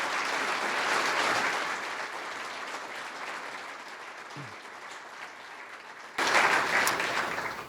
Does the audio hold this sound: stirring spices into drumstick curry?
no